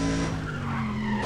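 A Mustang skids in the racing game Need for Speed ProStreet, giving a loud sustained tire squeal over engine drone that lasts just over a second.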